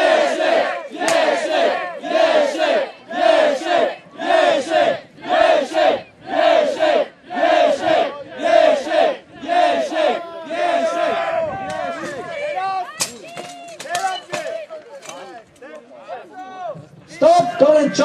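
A crowd at the Grunwald 2013 longsword tournament cheers a fight, first in a loud rhythmic chant of about a dozen evenly spaced shouts, then breaking into looser overlapping yells and calls.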